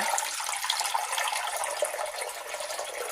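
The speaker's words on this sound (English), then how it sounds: "Now I'm just adding our filtered water." Filtered water pours in a steady, close stream into a cooking pot holding seasoned frozen chicken, salt and pepper, running without a break and with no one speaking.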